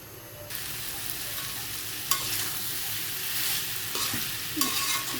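Pumpkin fries in a pan with a steady broadband sizzle, loud and close, while stirring scrapes break through at intervals; no voices.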